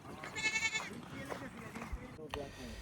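Goats on a large livestock farm in Virginia, USA, where cattle are also kept: a clear, wavering bleat near the start, with faint animal calls afterward, heard under a person talking.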